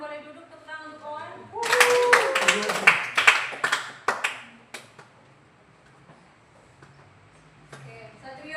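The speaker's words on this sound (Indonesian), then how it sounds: "tepuk tangan untuk Owan" Classroom applause for a student named Owan during a physics lesson: a short burst of clapping from several students, starting abruptly, peaking for about two seconds, then thinning into scattered claps that fade to near silence.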